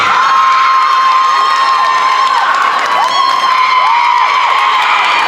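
A crowd cheers and shouts at a contest at an anime night market in a mall, with a dense, steady wall of loud voices, whoops and children's shouts sustained throughout, close and unbroken.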